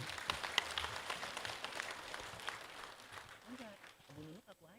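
Audience applause after a speaker is introduced at an Indonesian education event, a broad patter of clapping that fades toward the end as a voice begins speaking.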